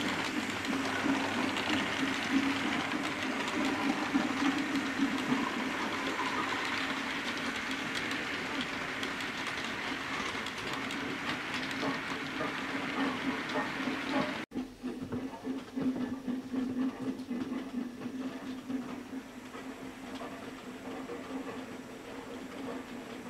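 An 8F steam locomotive, number 48062, hauls a train past Dent station, heard as a steady rumbling roll of wheels and wagons with rhythmic clatter, fairly distant and sustained throughout.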